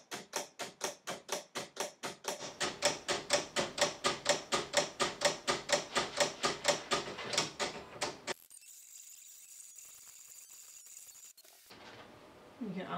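A Silhouette Cameo 3 cutter slices flocked heat transfer vinyl with an automatic blade, giving a fast, steady run of loud mechanical ticks that stops abruptly, followed by a quieter hum and a faint knock.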